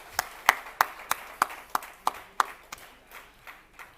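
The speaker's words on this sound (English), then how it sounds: "Ladies and gentlemen, big round of applause for Mr." Sparse, uneven clapping at a formal summit in Germany as a speaker is welcomed, about a dozen sharp claps spaced irregularly over four seconds, thinning and fading toward the end, fairly quiet with no voices.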